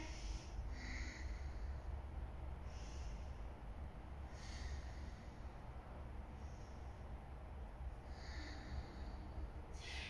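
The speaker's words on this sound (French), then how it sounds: "On respire toujours au Ujjayi." Slow, steady Ujjayi breaths during a yoga flow session, each long audible ocean-like exhale rising and fading at regular intervals over a quiet, hissy background, with no talking.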